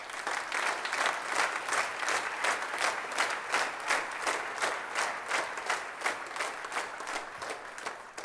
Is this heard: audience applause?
yes